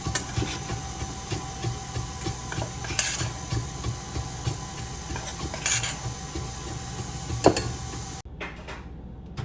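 Flour, baking powder, baking soda and salt are mixed into vegan oatmeal and goji berry cookie dough. A steady rumbling mechanical whir runs with rhythmic clatter and clicks, then cuts off abruptly near the end.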